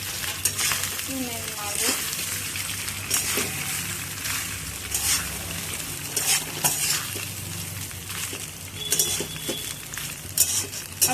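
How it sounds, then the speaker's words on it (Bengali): Rice frying in oil in a pan for soya pulao, stirred with a utensil: a steady sizzle with repeated scraping strokes and clinks against the pan, close and fairly soft, with a brief spoken word. "ভাতটাকে একটু নাড়াচাড়া করব।"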